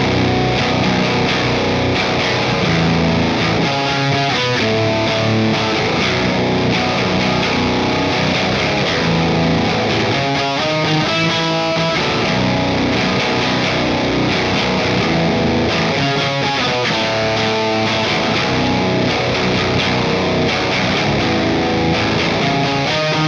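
An electric guitar through a low-gain boost pedal into a clean amp channel plays chords and riffs with a lightly driven, mildly distorted tone, continuous and full for over twenty seconds.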